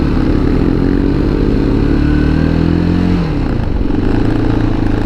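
Motorcycles and other traffic roll through a town street in Cappadocia, engines droning loudly and steadily, with one shifting pitch as it passes close by.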